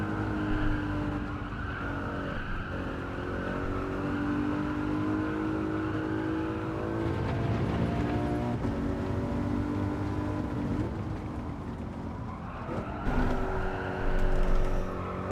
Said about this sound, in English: Third gear caused the car to slide there.